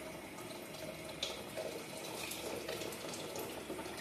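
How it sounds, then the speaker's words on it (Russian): Steady rushing of hot water pouring into a 3.5-litre pot, a continuous hiss and splash at even volume with no talking. "Горячую воду заливаем"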